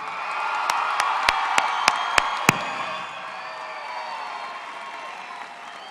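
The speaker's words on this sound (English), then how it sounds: "Let's give them a round of applause." A crowd at a Mountain View High School graduation ceremony bursts into sustained applause, with a few loud, sharp claps and whoops standing out early before the clapping settles into a steady, broad roar.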